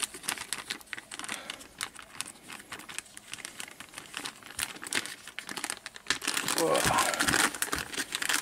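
Playtest trading cards being pulled from a plastic bag, a close crinkling and rustling that grows louder and denser toward the end, with someone talking through it.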